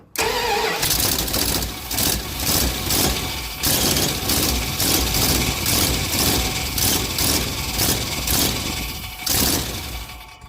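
A Ramcharger engine runs steadily and loudly with a rapid rhythmic clattering of its fan striking the shroud, continuous throughout with no talking.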